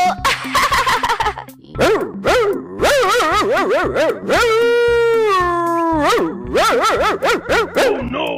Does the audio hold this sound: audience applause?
no